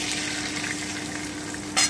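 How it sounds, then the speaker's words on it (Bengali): Oil heats and sizzles steadily in a wok after prawns were fried, a continuous close crackling hiss with a short clink of a utensil near the end. "এবারে আমি কড়াইতে আর একটু তেল দিয়ে দিচ্ছি।"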